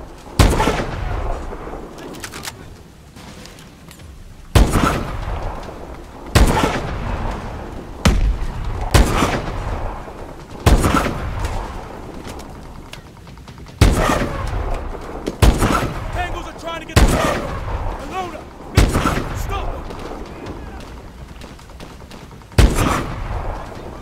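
Gunfire in Call of Duty Advanced Warfare during a combat mission, a series of heavy, booming shots spaced a second or two apart, each with a long rumbling tail, mixed with shouted voices and battle noise.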